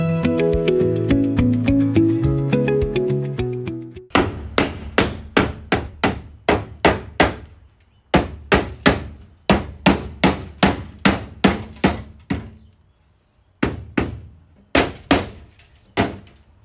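A metal hammer strikes sheet metal on the rear floor of a Jeep Cherokee build, landing loud, sharp blows in quick bursts of several hits with short pauses between, after a brief stretch of other ringing noise at the start.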